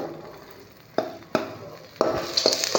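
Crushed garlic dropped into hot oil, frying with a soft continuous sizzle punctuated by several sharp clinks of a utensil against the pan, rising toward the end, no voices.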